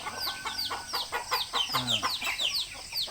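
A flock of about sixty backyard chickens clucks busily during feeding, with short overlapping calls repeating in quick succession throughout, close and steady.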